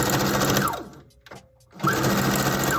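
Sewing machine back stitching hair wefts onto a wig dome cap: steady close mechanical whirring, a brief pause with a few soft clicks, then the rapid stitching resumes, no talking.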